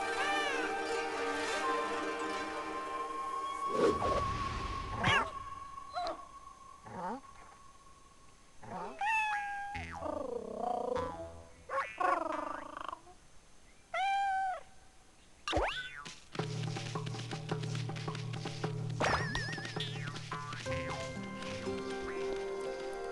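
Cartoonish cat meows from a cat in a painting in the video game Okami, several rising, wavering calls over game music and bouncy effects, with a voice talking at times.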